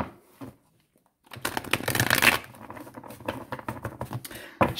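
A mixed pile of two oracle card decks is shuffled by hand, a short quiet pause giving way to a dense, close riffling patter with papery flicks and a final sharp tap.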